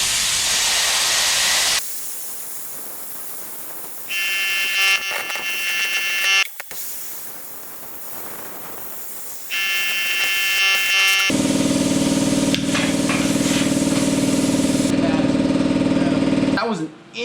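JEGS Cut 60 plasma cutter slicing through an inch of layered painted quarter-inch steel plates, harsh loud hissing and crackling in long bursts with buzzy tonal whine, pausing between passes.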